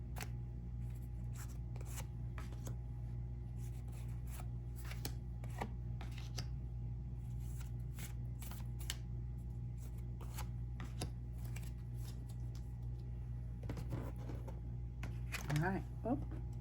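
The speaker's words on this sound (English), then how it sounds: "Let's draw some tarot cards." Tarot cards being shuffled and drawn make a series of quick, faint papery riffles and snaps scattered across a quiet room with a low steady hum, and a brief voice near the end.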